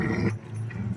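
A dog's low, rumbling growl, steady and close, with a slightly whiny edge at the start.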